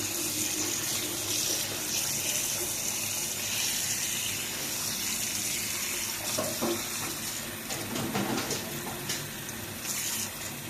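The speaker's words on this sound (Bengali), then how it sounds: "পানি দিয়ে ভালো করে শাকগুলো দিতে হবে" Leafy greens from a home garden rinsed under a running tap in a sink, a steady close gush of water splashing over the leaves with brief louder splashes as they are handled.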